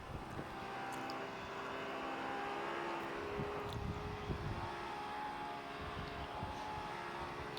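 Honda S2000 engine in the CarX Street driving game, a steady droning engine note held at speed throughout, moderately loud with no speech over it.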